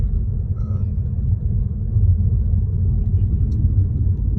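A Mitsubishi Evo X engine idles with a deep, steady rumble, loud and close, slightly rough and uneven throughout.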